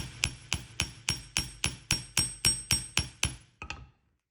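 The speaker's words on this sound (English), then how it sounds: "So I'm just going to hammer it out just a little bit more." Jewelry wire is hammered flat with a steady run of about a dozen sharp, ringing metallic taps at an even pace, then two lighter strikes before it falls quiet.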